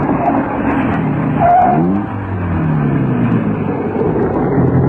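A car drives steadily past on a road, its engine note rising and then falling as it goes by, heard amid a continuous broadband rumble with no talking.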